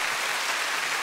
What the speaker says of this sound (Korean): 우리 세 분께 다시 한번 좀 박수를 부탁드리도록 하겠습니다